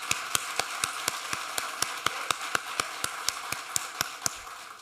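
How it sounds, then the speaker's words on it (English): Hands clap in a steady, even rhythm for an event's board of directors at a city address, with sharp, close claps of roughly four per second over a soft, low room murmur. "Let's give them a hand clap."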